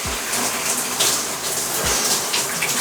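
Cold shower water pours steadily in a continuous broadband hiss, close and loud, with a few brief low thumps.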